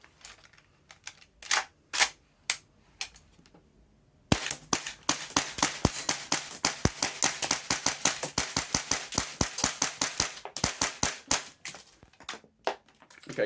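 Tokyo Marui MP7A1 gas blowback airsoft gun firing at a plate carrier, first a few spaced single shots, then a dense run of rapid, sharp, close clacking reports.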